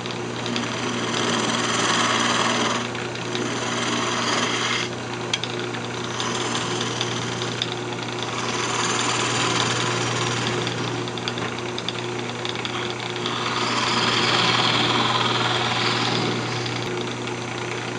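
Bowl gouge cutting redwood on a wood lathe for a Christmas ornament: a steady high-pitched whirring hum of the spinning lathe with a rough scraping cut that swells and fades in several passes, close and loud with no talk.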